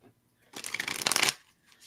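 Playing cards shuffled at a table in one quick riffle burst of dense, crisp flutter lasting under a second, close and clear with near silence before and after.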